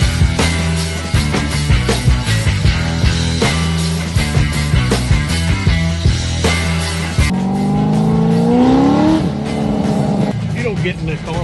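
A Corvette sports car drives and revs, its engine tone climbing in a rising sweep partway through, heard under loud music-like sound.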